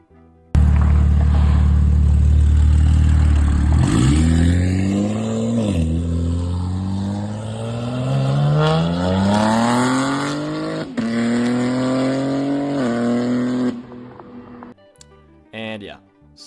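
A BMW S58 engine revs up repeatedly, its pitch climbing and dropping in long sweeps, loud and close, ending with a few sharp pops.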